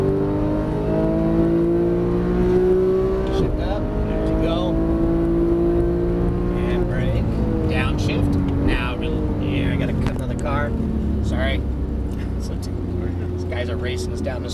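A Porsche 991 GT3 engine revs hard at full throttle on a Las Vegas race track, climbing through the gears, pitch rising and dropping with each shift, loud and close throughout.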